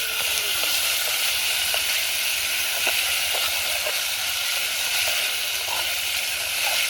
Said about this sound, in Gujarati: હવે આપણે તેલમાં હલાવી નાખીએ